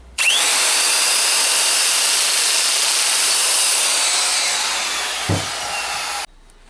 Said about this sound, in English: then I'm going to cut off this bit of excess just to make it easier for me to turn this over